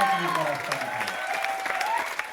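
An audience gathered aboard a Cordelia cruise ship breaks into loud, continuous applause, with a voice speaking over the clapping at the start and the crowd noise staying strong to the end.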